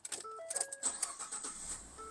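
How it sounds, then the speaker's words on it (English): A car engine starts after a few quiet chimes and clicks inside the cabin, sounding soft and brief, with no talking. "We're going to start our engine."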